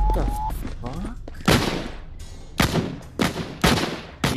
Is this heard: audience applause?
no